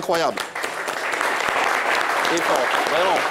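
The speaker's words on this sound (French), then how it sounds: "Applaudissements s'il vous plaît pour Joël OG." A studio audience at a live TV talk show applauds a performer, clapping steadily throughout. Excited voices and cheers come through over the clapping.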